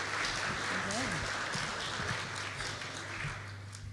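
Audience applause fills a conference room of about a hundred people at an emergency care conference in Bali. It is a steady, even wash of clapping under people talking, fading slightly toward the end.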